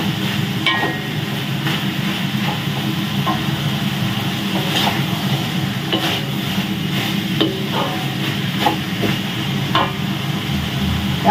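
Bitter gourd stir-frying in a pan with steady loud sizzling, spatula scrapes and stirring clicks recurring throughout, close and continuous with no talk.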